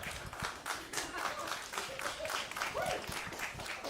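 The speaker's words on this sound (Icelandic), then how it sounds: "Endilega gefið þáttakendum gott klapp" Spectators clapping for competitors at an Icelandic bench press competition, uneven applause from a modest crowd with individual claps standing out, mixed with murmuring voices and some movement throughout.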